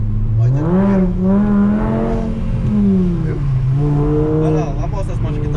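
A Volkswagen Jetta five-cylinder engine with a straight-through exhaust revs in a loud, sweeping rise and fall, holding high and then easing back before climbing again, with voices talking nearby.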